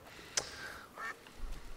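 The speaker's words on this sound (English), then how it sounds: "Oh, geese." Geese honk in A Plague Tale: Requiem, a few short nasal calls spaced apart, faint and set against a quiet background.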